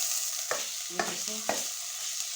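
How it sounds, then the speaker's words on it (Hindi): Minced meat (keema) frying with onions in a pan, a constant close hiss of sizzling with three distinct spoon scrapes and clanks, one voice speaking briefly. "अब हम इसमें कीमा शामिल कर रहे हैं।"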